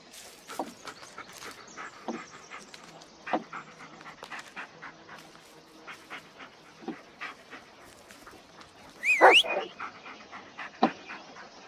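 A dog pants steadily in the Blair Witch video game, breathy and close, with occasional sharp barks and a louder burst of barking near the end, alone without talk.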